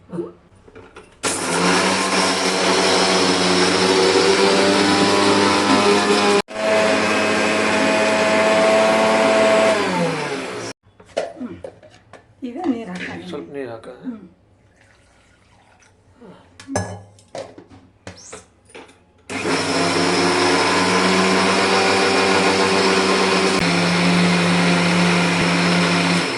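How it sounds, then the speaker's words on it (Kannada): A mixer grinder whirs loudly for about ten seconds as dosa chutney with coriander blends, then stops for a stretch of talking and clinking, then starts up again and runs steadily to the end. "ಈಗ ಇದು ಸ್ವಲ್ಪ ಮಿಕ್ಸಿ ಮಾಡ್ತೀನಿ"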